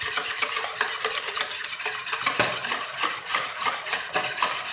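Lemon cake batter with vanilla and yeast is mixed steadily in a bowl, giving a continuous close scraping and swishing with quick repeated strokes and no talking.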